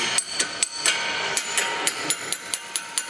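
Sharp metallic strikes from a makeshift hammer repeat at a steady pace during rear shock removal on a 2011 Ford Edge, about a dozen blows in quick succession, close and fairly loud with no talking.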